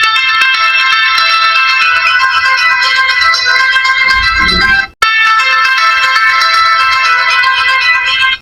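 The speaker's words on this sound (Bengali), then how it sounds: "এখানে কিন্তু আপনার লাউড সাউন্ড পেয়ে যাবেন এবং খুব সুন্দর রিংটোন এখানে দেওয়া হয়েছে" Loud, bright polyphonic ringtone melody from an ENIX H200 ultra-slim button phone, playing continuously with a brief cut near the end before the tune resumes.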